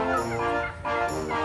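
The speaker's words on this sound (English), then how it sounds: "And there's about 50 turkeys" A flock of about fifty turkeys calls nearby, a dense overlapping chorus of gobbling and squawking that runs loud and steady for the whole moment, with only a brief dip partway through.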